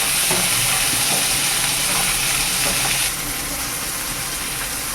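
Steady loud sizzling and hissing of chopped vegetables sautéing in a hot pan for vermicelli kichdi, with faint clinks, easing slightly in level partway through.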